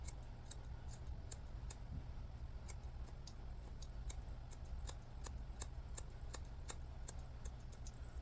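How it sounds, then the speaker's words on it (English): Scissors point cutting curly 3a hair in a shag/wolf cut, a quick regular series of crisp close snips, about two per second, over a faint low hum with no talking. "We're going to point cut."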